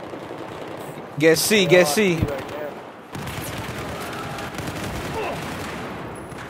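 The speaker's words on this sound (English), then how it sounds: "I'm shooting at everything moving." Automatic gunfire rattles through a Domination match in the Battlefield 4 open beta, clattering away in the background after a player speaks briefly over the start.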